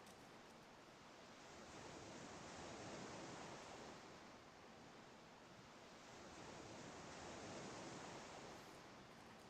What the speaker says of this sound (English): you get to listen to the ocean